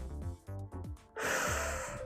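A deep inhale during a morning breathing and stretching exercise, heard as a close, loud rush of breath that follows several shorter breathy gasps.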